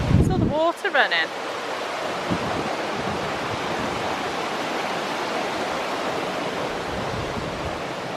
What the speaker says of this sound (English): saw the water running.